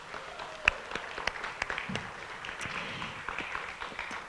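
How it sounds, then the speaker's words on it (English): An audience breaks into a round of applause at a talk event, a steady wash of many hands clapping at moderate volume with a few sharper claps standing out, lasting several seconds. "So one more round of applause for Haley."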